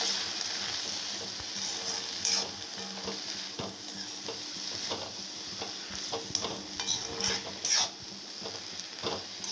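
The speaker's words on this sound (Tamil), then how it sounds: "வாழைப்பூ நல்லா வதங்கணும்." Banana flower sautéing in a pan, a steady close sizzle and hiss with light scraping and stirring strokes throughout, no voices.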